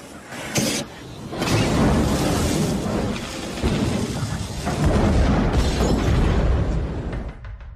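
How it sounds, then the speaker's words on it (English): A car bomb goes off in a 1983 Eldorado as the ignition is turned, the car swallowed by a fireball in a movie scene: a loud, sustained roaring blast with rumbling low booms and crackling bursts that swell and fade over several seconds. "climbs into his 1983 Eldorado, turns on the ignition, and is engulfed in a fireball"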